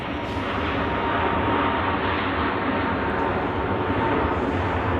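A Scandinavian Airlines airplane on the runway at Zurich Airport on a winter day gives off a loud, steady jet roar that stays broad and constant for the whole stretch.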